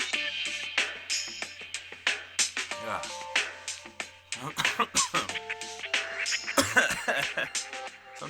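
A person coughs repeatedly after taking a hit of weed, harsh close bursts mixed with throat clearing over a quiet background with music-like tones.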